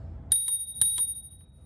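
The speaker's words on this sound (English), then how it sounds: "they come with their own bell." Bicycle bell on a Rad Power Bikes RadRunner e-bike, rung in two quick double dings with clear ringing tones that fade briefly, close and alone in a quiet setting.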